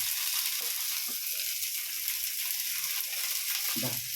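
Onions, curry leaves and coriander frying in a pan for a Tamil ivy gourd kuzhambu, a steady close crackle and hiss with a few soft stirring clinks, no voices.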